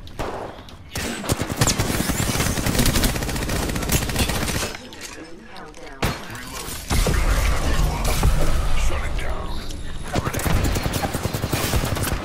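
Rapid bursts of Devotion light machine gun fire in Apex Legends, a sustained rattling stream of shots broken by brief pauses, with game effects layered over it.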